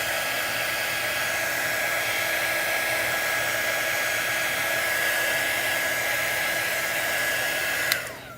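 Hair dryer blowing on shimmer paint on a craft project, a loud, steady whooshing whine with a constant pitch for about eight seconds before it clicks off.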